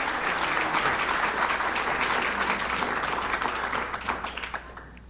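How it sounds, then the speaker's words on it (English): Warm audience applause at an awards ceremony: dense, sustained clapping from a large crowd that thins and tapers off near the end. "Please join me in another round warm of applause for Joanne Losey"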